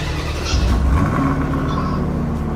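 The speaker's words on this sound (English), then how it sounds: "you can show us a cool startup" A car engine in Roblox turns over and settles into a steady rumbling idle with a brief rev, fairly loud and continuous.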